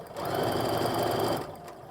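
A sewing machine runs a steady straight seam across a quilted ornament mug rug, a fast even whirring stitch that starts, holds for over a second and stops, loud and close with no talking.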